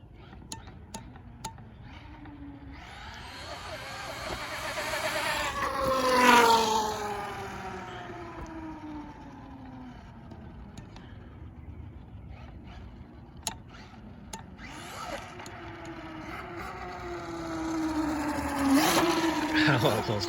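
A Traxxas X-Maxx RC truck with aluminum-rubber wheelie bar wheels whines past, its electric motor rising and falling in pitch as it makes close passes, with a voice talking over it.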